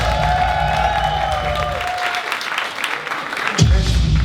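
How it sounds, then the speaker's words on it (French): An audience at a live show gives sustained, fairly loud applause that swells and dips, mixed with crowd cheering and a brief louder burst near the end. "Je pense qu'on peut l'applaudir plus fort que ça."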